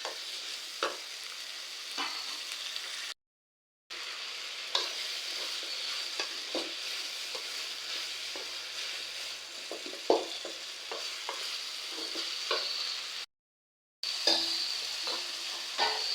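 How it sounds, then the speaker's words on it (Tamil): Tomatoes fry and sizzle in a pan for a village-style chicken curry: a soft, continuous crackle with light stirring scrapes, broken by two brief silent gaps, and no voices. "அது வரைக்கும் தக்காளியை ஒரு 10 நிமிஷம் நல்லா குக் ஆகட்டுங்க."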